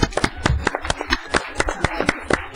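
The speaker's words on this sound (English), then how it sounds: "I think it deserves a nice round of applause" Applause for a scholarship winner at a youth commission meeting, a round of scattered hand claps from a small group, fairly close and irregular, lasting a couple of seconds with no talk over it.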